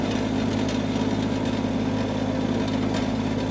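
The engine of a Groundhog KH25D mini-excavator runs in 2-speed with a steady, loud, low diesel drone and mechanical rumble that never lets up. No one speaks.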